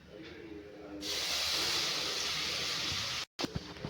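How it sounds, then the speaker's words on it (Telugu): Milk poured into hot roasting besan (gram flour) for besan halwa sets off a sudden, steady, sizzling hiss that runs for a couple of seconds before a brief break and a few clinks. "ఇప్పుడు మనం పాలు కలపాలి ఇందులోకి"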